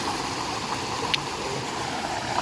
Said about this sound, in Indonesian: Aliran sungai dari atas